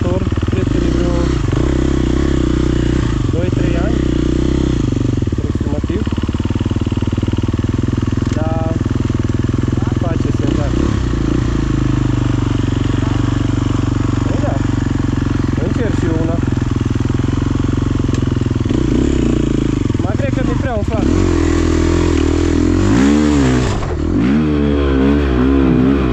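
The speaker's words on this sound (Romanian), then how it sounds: "se dă pe motor." An enduro dirt bike ridden on a muddy trail after rain in Mureș, Romania, its engine revving and rising and falling close by, with a burst of acceleration near the end, while people talk over it.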